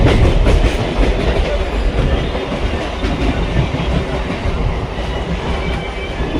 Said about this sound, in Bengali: বাবা এটা ট্রেন